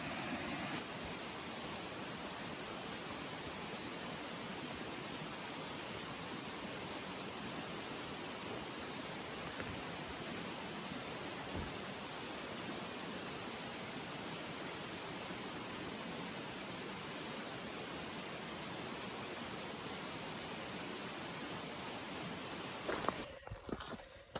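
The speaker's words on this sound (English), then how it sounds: "The river's loud." Continuous loud rush of flowing water, broad and unbroken for the whole stretch, ending with a brief rustle up close.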